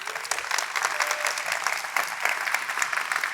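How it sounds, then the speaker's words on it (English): A conference audience at a tech platform event gives a loud, sustained round of applause, with crisp, busy clapping filling the whole stretch and no speech. "So please, very loud round of applause for Jen, who's going to introduce our customers."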